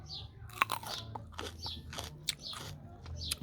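Someone bites and chews a raw orange, giving a series of close, crisp crunches and wet chewing bursts in an uneven rhythm, with no speech.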